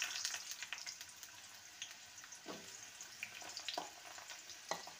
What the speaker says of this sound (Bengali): এবার আলু আর বেগুনকে ভেজে নেব